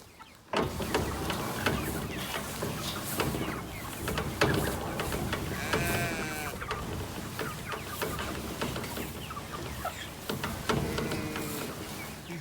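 Sheep bleat at close range among a flock feeding on fresh grass outdoors, with several wavering calls over a steady busy background that also carries fowl-like clucking.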